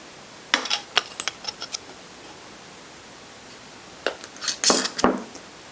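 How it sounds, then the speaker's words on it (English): Metal lids and rings are screwed finger-tight onto glass jars of coffee extract, giving two clusters of sharp close clinks and scrapes separated by a quiet pause. "now we're going to add the lids followed by the rings. Just finger tight"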